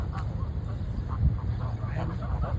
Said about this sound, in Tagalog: Daming mga gansa, ang lalaki na nila.